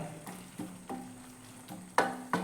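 Onions roasting with coriander powder in a pan are stirred with a spoon, producing a few distinct scraping strokes over a faint steady sizzle, close and clear.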